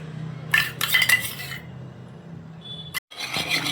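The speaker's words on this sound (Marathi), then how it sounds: "दूध आणि दूध आणि तेल मिक्स करून घेऊया" Milk, oil and ghee being mixed in a bowl make a spoon clink and scrape against the dish in a few quick bursts, then stir quietly with soft clatter.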